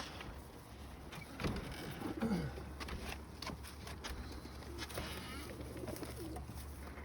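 Domestic pigeons coo softly in a loft, low throaty rolling calls repeating at intervals under steady room noise, with a few brief rustles and flutters; no clear talk.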